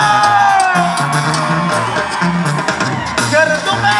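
A crowd at a live banda concert in Tingambato, Michoacán, shouts, whoops and cheers loudly and continuously over thumping band music.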